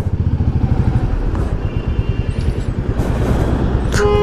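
A motorbike engine putters with a steady low rhythm as it is ridden out of a crowded parking spot on a hill road near Shimla, with brief horn toots and traffic noise around it.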